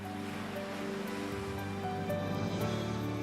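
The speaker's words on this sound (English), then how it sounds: "Along the ocean, the coastline's rugged and the surf's up." Surf rolling in along a rugged ocean coastline, a steady broadband wash of waves with a low rumbling undertone, continuous and fairly close with no voices.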